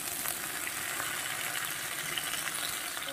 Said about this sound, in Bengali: কেটে ধুয়ে রাখা ডাঁটাগুলো দিয়েও আমি বেশ কিছুক্ষণ ভেজে নেব